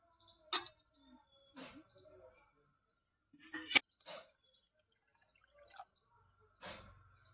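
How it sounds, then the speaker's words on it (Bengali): Curry water in a pan coming to a boil, heard as sparse, quiet bubbling pops and drips spaced a second or so apart against near silence. "দেখুন জলে যখন ফোট চলে এসেছে"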